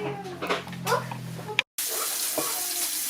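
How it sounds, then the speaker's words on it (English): Water running from a tap into a pot, a hissing splash with a brief cut partway through, fairly close and moderately loud. "So fill your boiling pot with some water"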